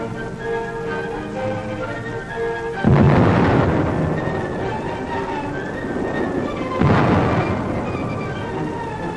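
Gunfire and explosions from the 1939 siege of the Danzig post office, with two heavy blasts several seconds apart breaking over a rumbling, crackling background of sustained fire.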